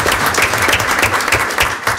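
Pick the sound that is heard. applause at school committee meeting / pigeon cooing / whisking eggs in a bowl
applause at school committee meeting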